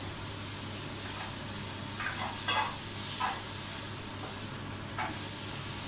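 Pork browns in a pan for pork menudo, a faint, steady sizzle and hiss of frying with a few soft scraping stirs breaking through now and then.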